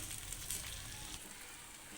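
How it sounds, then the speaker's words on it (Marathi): Steady, close frying sizzle of poha being stir-fried in a pan, continuing evenly without any talk. "आता मंदाच्यावर हे पोहे आपल्याला परतून घ्यायचे"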